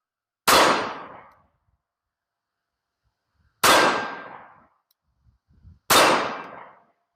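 Three loud, well-spaced gunshots from a Sig Sauer 1911-X pistol firing Gold Dot 230-grain hollow points, each shot sharp and ringing with a short decay, plus faint handling noise between the last two.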